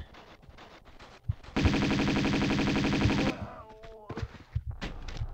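A sustained, loud burst of rapid Uzi fire in Tomb Raider 2 hammers for nearly two seconds, bracketed by softer scattered game sounds and a voice before and after.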